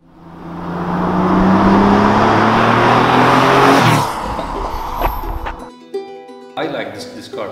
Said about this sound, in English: Being air-cooled, it has a particular sound to it.